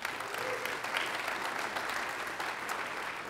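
A church congregation applauds during a Sunday service, steady moderate clapping from many hands that carries evenly throughout, heard from some distance.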